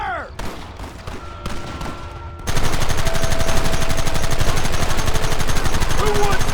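Rapid machine-gun and rifle fire in a Red Dead Redemption shootout, loud continuous bursts that break out after a few scattered shots and keep rattling to the end, with shouted voices in between.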